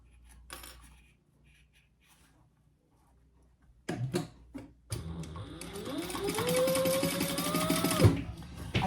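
A sewing machine bastes laptop bag pieces in place. A few soft handling clicks come first, then the motor whirs up and runs steadily at close range, rising in pitch before stopping abruptly.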